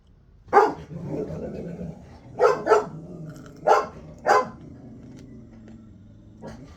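Several dogs barking in short bursts, a few sharp barks spaced apart, moderately near, with a low ambient hum underneath.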